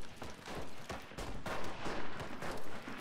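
Bursts of submachine gun fire from a PPD-34 in the Enlisted shooter game, sharp repeated shots coming in clustered volleys over an urban battle backdrop, fairly loud and without talking.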